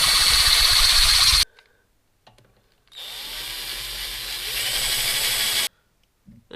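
A power drill bores out holes in metal footpeg hardware for a Honda Grom to 8mm, running in two loud, close bursts of steady whining grind, a short one then a longer one, separated by near silence, with no talking.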